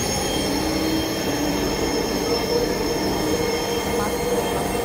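Dhaka metro train bound for Uttara North, its wheels squealing steadily against the rails over a constant rumble of the moving carriage, loud and continuous throughout.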